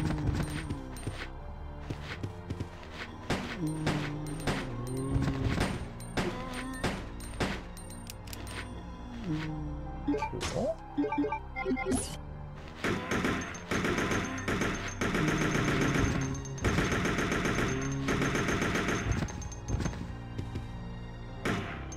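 Bursts of gunfire in Resident Evil Code: Veronica X, sharp shots in uneven clusters over about twenty seconds, mixed with thuds and background game music.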